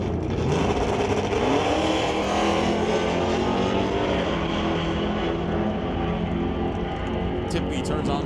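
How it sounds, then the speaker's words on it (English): Drag race between a Dodge Dart and a Chevy II at a bracket event: a loud, sustained engine roar with a rising pitch as the cars accelerate, heard under a track announcer's voice. "The Willowbrook Motors Dodge Dart dials in 1005 to the Chevy 2 of Darryl Tippy dials in 1053"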